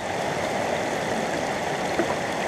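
Water runs steadily through a gold sluice set for a fairly shallow, slow flow, making a continuous, even rushing and trickling wash with no breaks and no voices.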